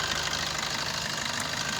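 A 2018 Maruti Suzuki Vitara Brezza ZDI+ diesel engine runs steadily at idle, a close, constant mechanical clatter and hum with no pauses and no voices.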